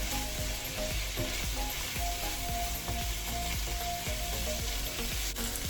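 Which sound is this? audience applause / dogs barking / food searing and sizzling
food searing and sizzling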